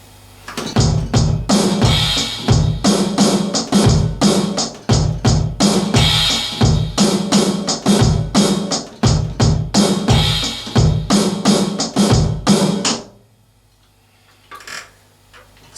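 A drum kit plays a beat: steady, loud kick and snare hits with cymbal wash, repeated several times over about thirteen seconds before the playing stops into near silence.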